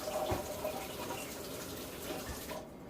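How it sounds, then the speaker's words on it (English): Two cups of water pour onto rice inside a Tupperware pasta maker, a soft, steady trickling fill with faint splashes, close and quiet, ending abruptly. "I'm going to put another 2 cups of water in with it"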